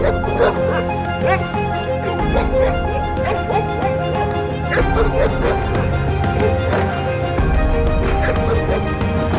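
A female American bulldog at a dog training session barks and yips repeatedly at close range in an excited, continuous rhythm over a busy background.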